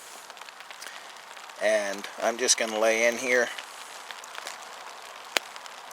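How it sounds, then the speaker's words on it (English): Rain falls on a 2Go Systems Trifecta waterproof bivy tent as a soft, steady patter with scattered sharper drop hits, and someone briefly speaks close by partway through. "You can hear the rain has started"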